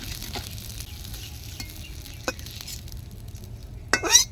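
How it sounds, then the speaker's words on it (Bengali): Fried bitter gourd is stirred and lifted from a hot pan, with a soft sizzle and a few sharp utensil scrapes and clinks, ending in a louder scrape. "তো আমাদের উচ্ছে ভাজা হয়ে গেছে, এবার আমরা তুলে নিচ্ছি উচ্ছে ভাজা"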